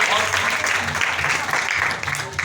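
Church congregation clapping loudly together, a dense steady patter of many hands filling the room for a couple of seconds, with some voices mixed in.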